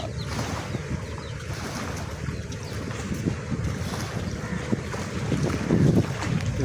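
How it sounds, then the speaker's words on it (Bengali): Boat on a river in wind, with steady wind rumble buffeting the microphone and low water and engine wash throughout, swelling slightly louder near the end. "নৌকা"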